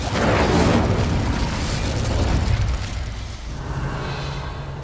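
Incendio fire spell cast in Hogwarts Legacy, a loud burst of roaring, whooshing flame that sustains for a few seconds and gradually fades.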